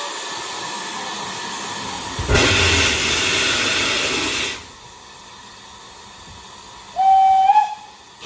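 Steam whistle on the North Norfolk heritage railway: a broad hissing blast lasting a couple of seconds, then a quieter stretch and a second short, higher whistle toot near the end, with no talking.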